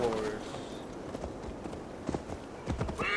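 Horse hooves gallop in Assassin's Creed Valhalla, a rapid rhythmic clip-clop that runs throughout at close range, with a few louder thuds late on and other game sounds mixed in.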